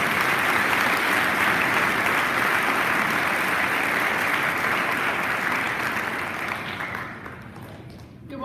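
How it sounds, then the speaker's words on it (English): A school assembly audience on Veterans Day claps steadily in a large indoor space, the dense applause holding loud for several seconds before tapering off toward the end. "Please give her a round of applause."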